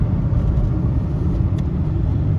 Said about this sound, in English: Sorry if you can hear the road noise and stuff, we are whipping the Micra